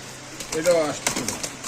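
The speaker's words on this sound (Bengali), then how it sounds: "লাল কবুতর অনেকদিন পরে পাইলাম আমরা" At a bustling pigeon market, pigeons give a brief low coo amid crowd noise and sharp clicks, with no clear talking in the moment.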